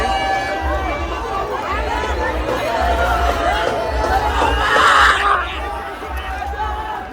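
A dense festival crowd at a village fair murmurs and shouts, loud babble and scattered whoops swelling toward a peak before easing slightly, with voices close by.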